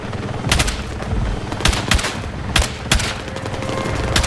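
Video game gunfire, a run of sharp loud bursts and single shots cracking out at uneven intervals over a constant background din of battle.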